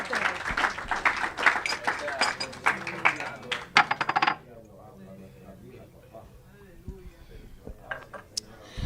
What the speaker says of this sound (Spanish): Ahí demos un aplauso al Señor.